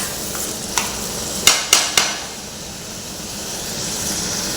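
Onions with chana dal frying in a pan, a steady background sizzle broken by a few sharp knocks and scrapes from a utensil.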